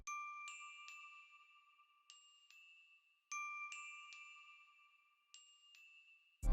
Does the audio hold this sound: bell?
yes